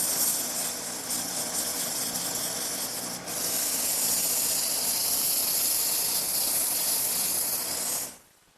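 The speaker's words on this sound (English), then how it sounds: "by increasing the speed of the lathe a little bit more and using a variety of different grits of sandpaper" Sandpaper held against a wooden table leg spinning on a lathe at increased speed, a loud, steady hissing rub over the motor's hum that briefly dips, then runs on before stopping abruptly near the end.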